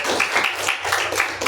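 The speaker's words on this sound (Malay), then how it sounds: "Okey, berikan tepukan." Classroom applause at a school lesson, a dense patter of many small hands clapping together at steady loudness, close and continuous with no voices.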